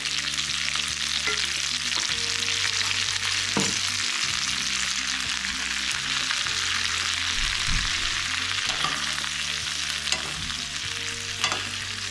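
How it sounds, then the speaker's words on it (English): Cabbage and diced leftover onion fry over low heat in bacon grease, a steady close sizzle with occasional utensil stirs and scrapes, no talking. "Kind of roll the cabbage around in that bacon grease, let that cook it."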